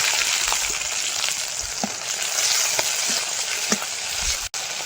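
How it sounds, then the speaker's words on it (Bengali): Garlic and slit green chillies hit hot oil for tempering, giving a dense, loud, steady sizzle and crackle close by with a few faint stirring taps, without talk. "বাঁধাকপিটা ভাজা করার জন্য তেলের মধ্যে রসুন আর কাঁচা লঙ্কা চেরা ফোড়ন দিয়ে দেবো।"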